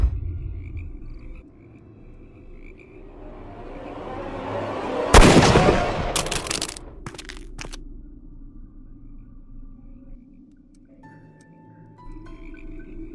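A single sharp gunshot cracks out loud and close in a Sherlock Holmes detective game aboard a train, rising out of a swelling ambient rumble and followed by a few brief clicks and knocks before the scene settles into quiet tones.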